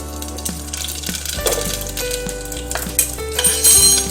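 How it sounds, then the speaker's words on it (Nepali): Cumin seeds fry in hot oil in a pressure cooker while chicken curry is being made, a loud close sizzle broken by clinks and stirring scrapes from the pot, with no talking. "अब यसमा मैले यति जति जिरा फ्राई गर्छु"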